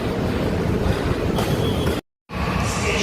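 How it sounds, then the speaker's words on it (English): A Mumbai metro train runs with a loud steady roar and rumble from inside the carriage, cut by a brief silent break before the same running noise resumes. "Now I am going to board this metro train to A7 from Western Express Highway"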